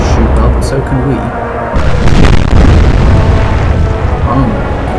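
Naval gunfire and shell explosions in the Atlantic Fleet video game: loud, heavy booms and rumbling blasts that swell after a quieter opening, with a voice talking over the battle.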